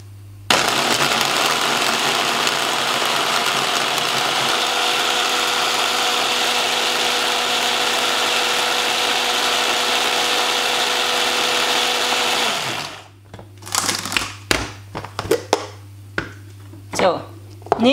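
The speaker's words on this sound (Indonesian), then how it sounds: "Kita blender ya." An electric blender purées spice paste with a little added water, a loud, steady whirring roar that runs unbroken for about twelve seconds before cutting off, followed by a few scattered clatters and knocks.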